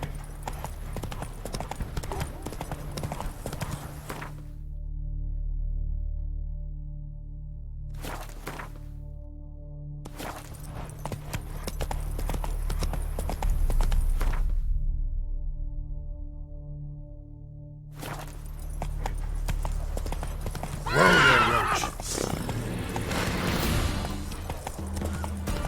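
Hoofbeats of Roach, Geralt's horse in The Witcher 3, pound steadily in a loud, close gallop across the whole stretch, with a brief neigh near the end.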